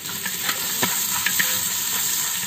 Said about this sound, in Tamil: நம்ம இந்த பட்டையை இதை சேர்த்துக்கிறோம். வந்து பல வெங்காயத்தை சேர்த்துக்கலாம்.